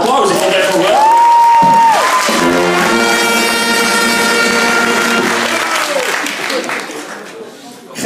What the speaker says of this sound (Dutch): Ik wil eigenlijk nog wel een keer een keihard applaus.